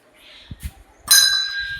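A bell is struck once and rings out with a bright, sustained metallic tone that slowly fades, following a couple of soft dull thumps; it sounds close and fairly loud.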